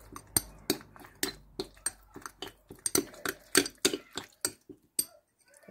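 A spoon mixes a plain yogurt and rose petal face mask with jojoba and grapeseed oil in a bowl, a close series of sharp clinking taps at an uneven, quickening rhythm.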